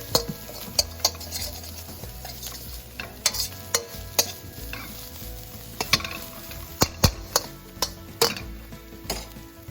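Leftover grilled milkfish sisig stirred in a hot pan: sharp spatula clicks and taps against the metal, repeated irregularly over a continuous sizzle, close and alone without voices.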